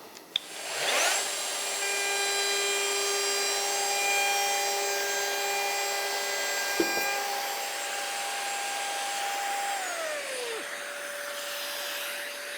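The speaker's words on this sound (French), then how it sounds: "Connexion avec l'aspirateur." A Festool vacuum dust extractor connected to a cordless flush-trim router whines steadily with a strong tonal hum, starting with a click, holding constant, then winding down near the end.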